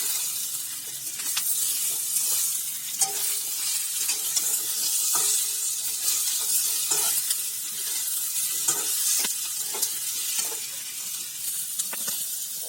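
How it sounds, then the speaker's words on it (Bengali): Potato and green banana lentil fritters being stirred and fried in a pan, a steady sizzle with scattered scraping stirs, close and fairly quiet, no talking. "এটাকে একটু নেড়ে ভেজে নিতে হবে।"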